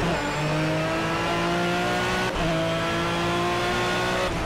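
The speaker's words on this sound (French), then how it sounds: "j'ai presque envie de me la fermer pour vous laisser profiter du moteur" A race car engine roars steadily in the video game Project CARS, a loud sustained drone that stays close and continuous throughout, with no talk over it.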